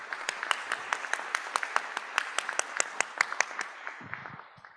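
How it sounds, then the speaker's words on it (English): A small audience at a summer pitch competition gives a short round of applause, a modest, distinct patter of individual claps that tapers away over about four seconds. "Let's have a round of applause"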